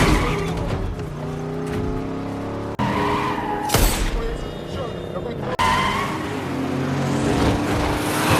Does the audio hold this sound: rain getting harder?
no